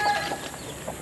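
A backyard hen, mother of two chicks, clucks a few soft, broken notes close by over faint outdoor background, with no talking.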